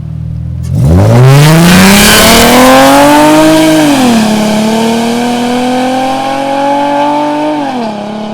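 A loud Infiniti G35 fitted with new side splitters starts driving off close by, its exhaust rising into a hard rev, easing slightly, then holding a sustained roaring drone as it pulls away.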